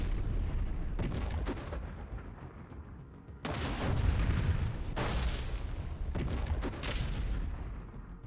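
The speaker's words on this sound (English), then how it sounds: "this time Russian artillery opened fire." Russian artillery opens fire near forested areas: several heavy, rumbling booms in separate bursts, each with a long roaring decay, loud and close over a constant low background.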